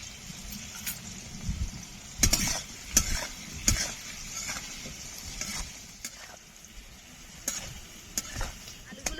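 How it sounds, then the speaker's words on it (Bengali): Potatoes fry in hot oil seasoned with turmeric and a little salt, a low steady sizzle broken by several sharp scraping stirs of a spatula in the pan, close by with no speech. "আলুগুলো ভাজা হয়ে গেছে, এখন তুলে নেব।"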